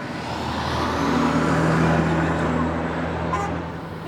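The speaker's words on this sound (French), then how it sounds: "il y a une voiture" A car passing on a rural road near a military post in Egypt, a broad engine and tyre rumble swelling then easing over a few seconds, fairly close and loud.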